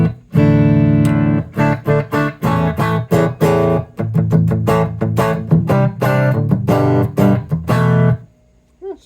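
Electric guitar with regular humbucker pickups played clean with no distortion, loud close strummed chords and picked notes in a rhythmic pattern, ringing out and cutting off near the end.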